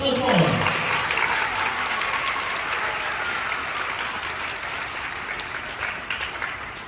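A congregation at a school thanksgiving mass at Collège Sainte Famille de Ndjili claps loudly and steadily for several seconds, a dense continuous wash of applause that slowly eases.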